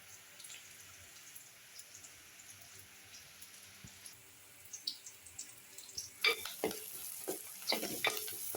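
Ingredients sizzle and fry in a pan ahead of chicken being added, a soft steady crackle that builds toward the end as a spoon stirs and scrapes in several close, uneven bursts.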